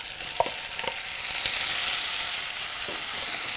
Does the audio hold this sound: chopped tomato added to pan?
yes